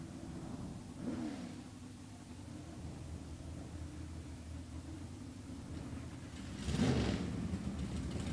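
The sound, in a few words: drag racing cars doing burnouts, V6 dragster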